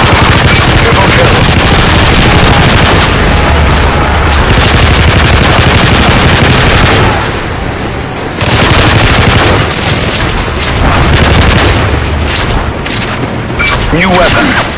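A sentry gun firing in Modern Warfare 3 chaos mode pours out loud, near-continuous automatic fire mixed with explosions and booms, with a brief lull midway and a voice speaking over the din.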